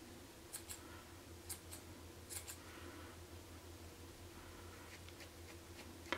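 Small scissors snip yarn while trimming a mini knit hat ornament, making crisp paired clicks in short bursts, close and quiet over a low steady hum.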